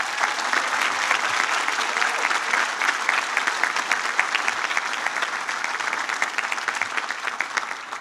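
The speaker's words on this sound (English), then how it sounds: "I think that they too deserve a round of applause." Sustained applause from a seated audience at a high school baccalaureate service, a dense continuous patter of many hands clapping at steady volume for the full stretch with no voices over it.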